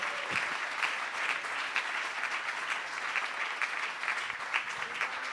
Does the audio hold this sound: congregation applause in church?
yes